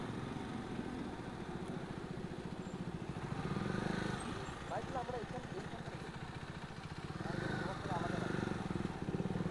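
Motorcycle engines idle and rumble steadily in a bike parking lot, a continuous close drone with a couple of swells, and people talk over it throughout.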